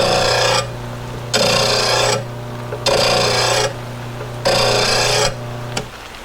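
A file or sharpener is pulled across a lawn mower blade in five steady rasping strokes, each lasting close to a second with short pauses between. The scraping is close and loud over a low constant hum, and nobody speaks.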